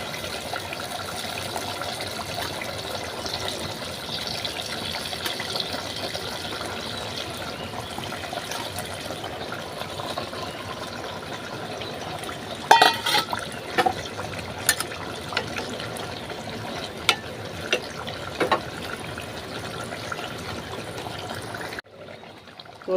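Fish pieces go one at a time into a simmering curry, giving a steady wet bubbling hiss with a few soft plops and splashes midway. There are no voices.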